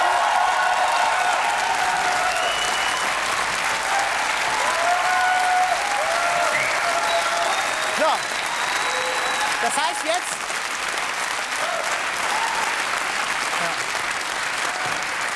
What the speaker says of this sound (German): Einen kleinen Applaus für Kerstin nochmal.